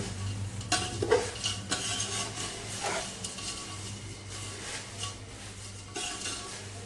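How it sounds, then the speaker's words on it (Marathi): Thin poha being tossed with fried chivda ingredients in a pan, giving a steady dry rustling and scraping of the spoon with a few clinks against the metal, continuous and close. "आता घातलेलं साहित्य आणि पोहे चांगलं मिसळून घेऊया"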